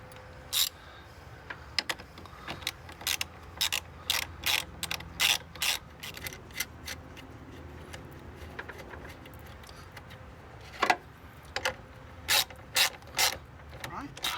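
A hand ratchet clicks in short, rapid bursts while tightening the fittings on Nilight 60-inch RGB truck bed lights, with brief pauses between strokes and a quiet background.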